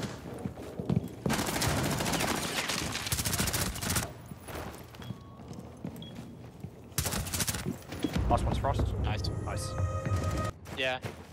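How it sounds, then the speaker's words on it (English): In a Rainbow Six Siege match, repeated bursts of gunfire shoot out a window, with loud rapid volleys separated by quieter stretches and voices talking over parts of it. "Yeah, I shot that window out."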